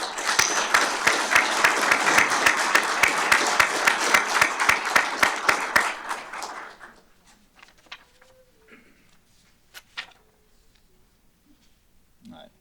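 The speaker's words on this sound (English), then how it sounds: "Let's give those individuals a round of applause." An indoor crowd at a fire and rescue awards ceremony claps steadily for about six seconds, then the applause fades to near silence with a few faint, scattered sounds.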